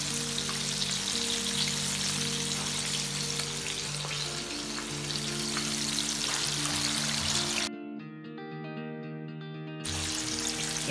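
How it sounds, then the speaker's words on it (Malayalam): Chicken pieces deep frying in hot oil, a steady dense sizzle and crackle that fills the scene continuously, with faint tonal kitchen hum underneath and a brief drop before the frying noise returns. "നല്ല ഡീപ് ഫ്രൈ ആവുന്നവരെ വെയിറ്റ് ചെയ്യാം"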